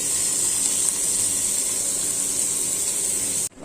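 Dried fish (shutki) frying in a pan gives a steady, loud hiss and sizzle that holds evenly for several seconds and then cuts off abruptly near the end.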